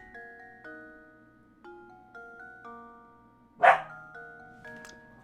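A dog in a streamer's room gives a single sharp bark midway, close and fairly loud, over soft, sparse game music tones with no talk.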